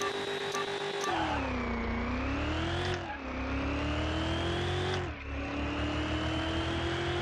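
Drag car in Car Mechanic Simulator 2021 launching down a quarter-mile strip at full throttle: a loud, steady engine roar climbing in pitch, dipping at two gear shifts and rising again.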